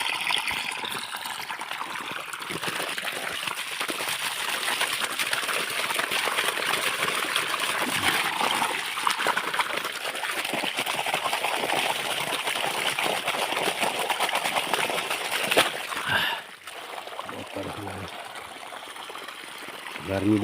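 Irrigation water flows into a millet (bajra) field in hot summer conditions, a steady, close rushing and trickling that carries on without pause before briefly dipping near the end.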